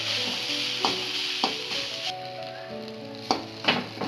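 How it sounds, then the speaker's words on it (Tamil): Grated coconut dry-roasts in an empty kadai with a soft, continuous sizzle, broken by a few sharp scrapes and stirs, close by with no voices. "இந்த துருவலை வெறும் கடாயில் போட்டு நம்ம வறுத்து எடுத்துக்கலாம்"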